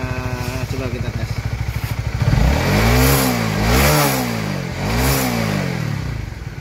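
A Honda CBR150 sport motorcycle engine idles with a rapid, even putter, then is revved hard to full throttle three times. Each rev rises to a loud, high whine and falls back, close to the listener.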